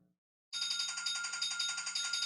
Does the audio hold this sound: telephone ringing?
yes